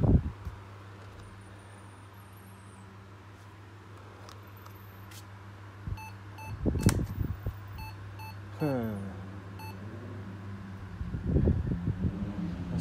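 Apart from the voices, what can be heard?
old laptop beeping at startup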